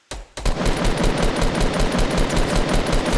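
Rapid automatic gunfire in the Fortnite battle royale video game, a dense, loud, continuous burst of shots starting after a brief pause and rattling steadily to the end, with no talking.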